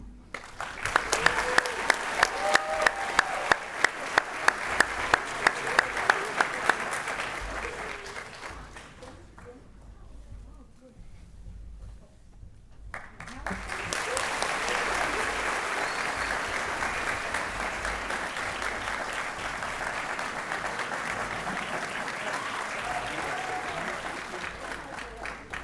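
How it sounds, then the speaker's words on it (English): Applause at a chemical and biomolecular engineering graduation ceremony, a sustained crowd of clapping hands that drops away briefly in the middle, then swells back into a long, steady round. "And one more applause for our PhD recipients and all of our graduates"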